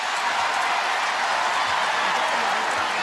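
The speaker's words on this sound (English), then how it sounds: "Crowd getting a little antsy" A volleyball arena crowd murmurs and stirs during a women's NCAA regional semifinal match, making a steady broad roar with scattered claps and no clear peaks.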